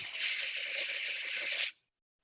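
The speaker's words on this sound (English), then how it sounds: "Are you What? spraying your keyboard right now?" CRC Duster compressed air blasts at a keyboard in one continuous hissing spray lasting under two seconds, loud and close, then cuts off abruptly into silence.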